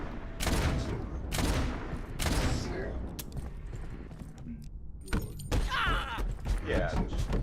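Gunfire in the video game Abiotic Factor, with several loud bursts of shots in the first seconds and more toward the end, under people talking.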